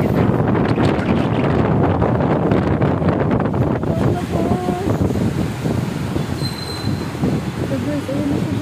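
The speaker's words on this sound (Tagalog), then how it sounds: "Napakalakas ng ulan." Heavy rain pours with strong wind buffeting the microphone, a dense, loud, constant roar that continues steadily throughout.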